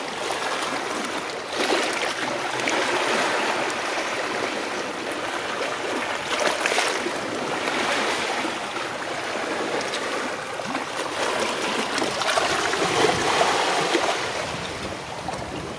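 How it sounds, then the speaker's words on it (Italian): Small waves lap and splash against the harbour edge in Portoscuso, Sardegna, near a large moored boat, with gentle rolling swells and trickling water, close and steady, without voices. "Spero che si senta lo sciacquio delle onde"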